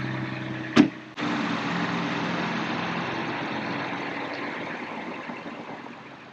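A new Ford Bronco First Edition fires up with a sharp starter burst, then drops into a steady, fairly loud idle that hums evenly and fades slightly toward the end, with no voices over it.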